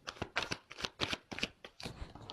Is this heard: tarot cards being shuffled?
yes